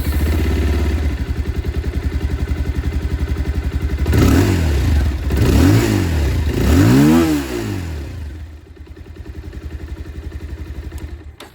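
A 2025 Bajaj Pulsar 220F motorcycle idles with a steady, close exhaust thrum, then revs up three times in quick rising-and-falling bursts before settling back to idle.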